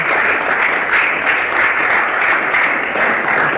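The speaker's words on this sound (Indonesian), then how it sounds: "beri aplaus tepuk tangan untuk para sponsor Anda, para upline Anda." An audience at a business sharing class claps for their sponsors, a short, full wash of applause at steady loudness.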